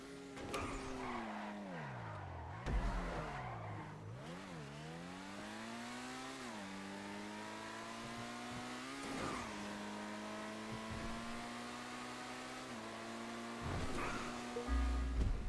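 A Benefactor Krieger car lapping a test track in the GTA video game: a high-revving engine climbs through gears, drops and rises again around corners, with brief tire squeals, loud and continuous with no voices.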